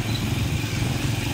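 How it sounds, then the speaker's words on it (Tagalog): Motorcycle engine droning steadily at close range while carrying riders toward a school on Sarangani Island, a continuous low rumble with rattly texture and no talk. "So, nakasakay na po kami ng motor."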